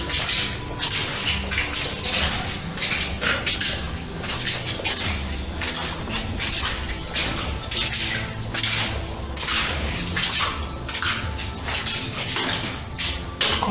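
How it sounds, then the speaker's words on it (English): Water running steadily through an old 1700s mine with hand-drilled shot holes, a continuous close splashing and trickling that holds at an even level throughout. "Quite nice with the water flowing."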